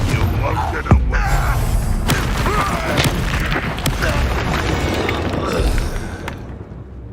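A Confringo spell explosion in Hogwarts Legacy lands as a short, punchy boom amid busy combat noise and voices, followed by a few lighter impacts.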